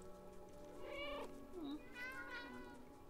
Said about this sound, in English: I thought that meowing is coming inside this house.